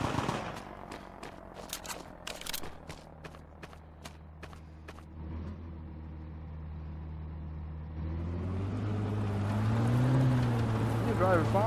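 A tank engine drones steadily through a World War II D-Day video game battle, low and continuous, with scattered gunshots crackling early on and the engine swelling louder and rising in pitch toward the end as it drives.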